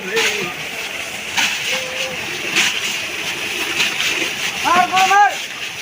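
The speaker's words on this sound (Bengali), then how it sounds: "দেখুন পানির প্রেশার কীভাবে বাড়ছে" Pressurised water gushes and splashes in a steady broadband rush that grows a little stronger toward the end. Voices can be heard briefly over it.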